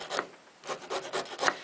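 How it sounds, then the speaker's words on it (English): Ordinary kitchen knife sawing down through a lump of chaga fungus, close and fairly quiet, with several rough rasping back-and-forth strokes after a brief pause. "Now I want you to see how easy it is to cut chaga with just a normal kitchen knife."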